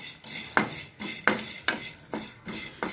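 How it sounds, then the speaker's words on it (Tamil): Black pepper, ajwain and cloves are dry-roasted in a pan for a home cold remedy, with a utensil scraping and stirring in regular rhythmic strokes, close and moderately loud. "இதையும் சேர்த்து இதிலே வறுத்துடலாம்."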